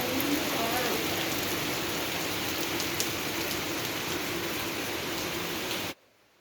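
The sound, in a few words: rain falling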